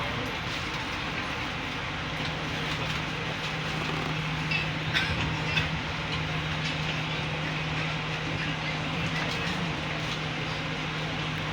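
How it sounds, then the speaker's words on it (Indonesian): A Progo economy passenger train hauled by a CC201 locomotive pulls out at night from Pasar Senen toward Lempuyangan, giving a steady, close rumble with a low droning hum and faint clatter that runs evenly throughout, with no voices. "Tepat pukul 23:20 kereta api Progo diberangkatkan menuju Lempuyangan"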